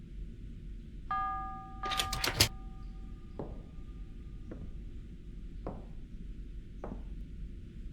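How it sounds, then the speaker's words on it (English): A doorbell in the video game The Prophecy gives a bright chime with a ringing tone, followed by a quick burst of higher clangs and several faint, evenly spaced clicks against quiet background hiss. "Hey, let's ring this funny bell."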